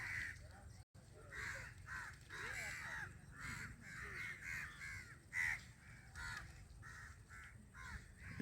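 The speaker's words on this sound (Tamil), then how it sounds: "எல்லாம் காகங்கள் எவ்வளோ காகங்கள் இருக்குது பாருங்கள்" Many crows caw again and again, their harsh calls overlapping in an irregular stream over a constant noisy outdoor background.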